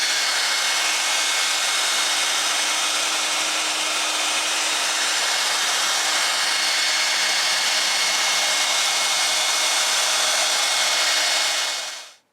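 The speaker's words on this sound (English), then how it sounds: "Where's the hairdryer?" A hair dryer blows loudly and steadily with a constant whooshing hum for about twelve seconds, then cuts off abruptly at the end.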